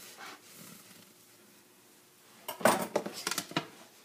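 A metal bread pan holding a sourdough loaf is set into an oven, giving a quiet lead-in and then a cluster of close metallic clanks and scrapes near the end.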